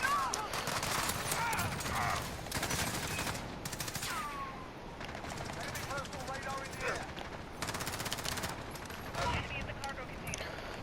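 Bursts of rapid automatic gunfire from the Call of Duty Modern Warfare game come in several loud volleys with short pauses between them, alongside clanking handling sounds, with someone talking over parts of it.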